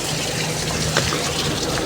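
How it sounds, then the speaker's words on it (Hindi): Cold mountain spring water flowing steadily out of the rock, a dense continuous gushing wash close by with no pauses. "ये देखो ठंडा पानी है, देख सकते हो चश्मा आ रहा है कैसे पहाड़ों के अंदर।"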